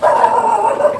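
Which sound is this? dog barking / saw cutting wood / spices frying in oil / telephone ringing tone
dog barking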